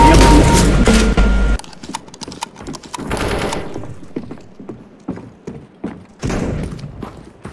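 AUG rifle fire in Counter-Strike: Global Offensive, heard as bursts of sharp shots with mechanical clicks in between and loud game noise at the start.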